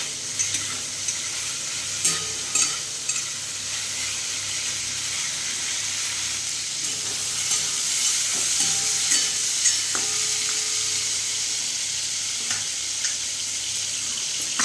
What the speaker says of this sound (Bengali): ভেজে রাখা ফুলকপিগুলোকে দিয়ে এটাকেও হচ্ছে মশলার সাথে ভালো করে একটু কষাবো।